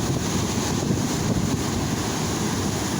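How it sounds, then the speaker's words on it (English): Ocean surf pounding against the rocky shore at Boiler Bay near Depoe Bay, Oregon, during a dangerous windstorm, a steady heavy roar of churning water with wind buffeting the microphone throughout and no voices. "I can't get enough of these waves crashing on the rocks."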